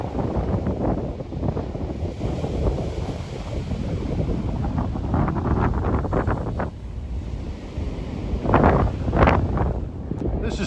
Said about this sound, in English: The wind is really blowing.